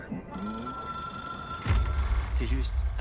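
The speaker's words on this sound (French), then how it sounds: "Et nous allons répondre au téléphone." A telephone rings in the video game Control, a sustained electronic bell tone starting near the beginning under in-game ambience, followed by a louder low rumble and brief game voices later.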